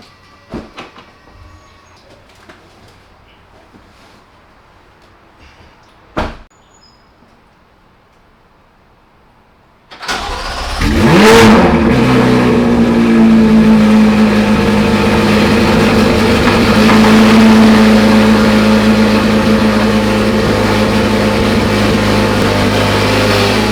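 A Chevrolet C8 Corvette Z06 sits quiet with a faint thump or two, then its engine cranks and fires loudly, flaring in a sharp rev before settling into a loud, steady, rumbling idle close by.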